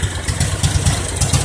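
A biogas generator engine runs steadily right beside its exhaust outlet during a first test at Rosebud, giving a loud, close, continuous low idling rumble with a faint rhythmic pulsing and no speech.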